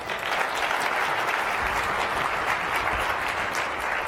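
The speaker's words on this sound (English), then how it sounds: "They give him a round of applause" Audience applause in a conference session on security threats, a steady dense round of clapping from a seated crowd that holds evenly for about four seconds with no talk over it.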